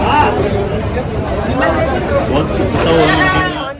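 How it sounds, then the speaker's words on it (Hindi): Goats bleating amid a busy goat market in Ajmer, Rajasthan, several animals calling close by over a steady crowd murmur and people talking. "ये देखिए पूरा बकरा मंडी है।"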